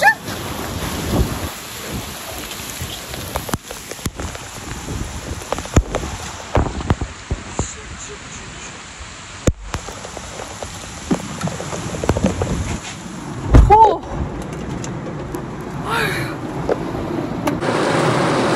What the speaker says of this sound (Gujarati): ખતરનાક વરસાદ ચાલુ થઈ ગયો છે